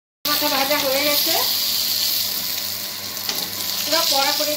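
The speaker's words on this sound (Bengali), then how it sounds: "পুরো কড়া করে একটু ভেজে নিলাম" A fish head frying crisp in oil in a kadai gives a dense, steady sizzle and crackle, close and continuous, with brief speech over it.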